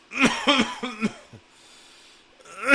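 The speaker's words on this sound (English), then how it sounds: "A coughing attack over here." A person coughs four or five times in a quick, harsh burst, close and loud, then a breath and a final throaty cough.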